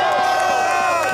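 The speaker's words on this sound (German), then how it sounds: "das Publikum tobt" A crowd cheers loudly and steadily for a young child racing with her mother at a barrel-stave race in Gießhübl, a dense roar of voices filling the whole moment.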